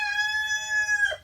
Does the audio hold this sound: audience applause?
no